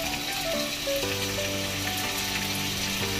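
Meat frying in hot oil until golden brown for pakbet, a dense, continuous crackle and sizzle close to the pan, with no speech.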